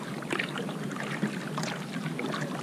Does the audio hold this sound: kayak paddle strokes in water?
yes